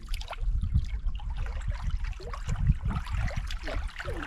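Gentle water laps and trickles at the shore of Loch Venachar in Scotland, soft irregular splashes and gurgles close by in a calm evening setting.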